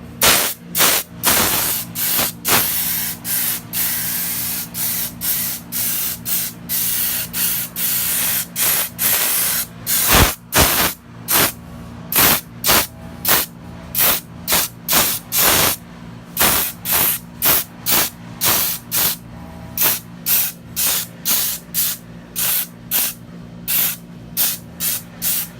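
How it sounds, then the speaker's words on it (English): Bursts of spray paint hiss onto a glued-up wooden soccer World Cup sign and its knobs, long sprays at first, then a steady run of short, even puffs, close and loud with no talking. "So now let's spray it off real quick and see how it's going to look."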